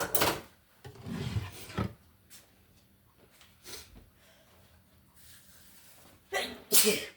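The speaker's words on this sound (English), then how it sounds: "I had to sneeze." A sharp sneeze bursts out, followed by quieter rustling and small knocks, then a couple of louder bursts near the end.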